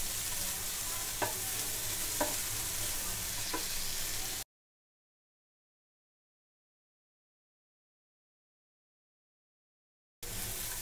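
Vegetables with beans stir-fried in a pan for homemade pasta, a steady low sizzle with a few soft spatula scrapes, close and fairly quiet, cut by a long silent gap before resuming.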